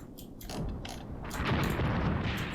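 Mortar fire in the WWII tank game Tank Warfare: Tunisia 1943, a run of muffled booms and rumbling blasts over a steady mechanical battlefield din, with no talking.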